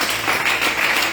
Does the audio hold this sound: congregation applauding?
yes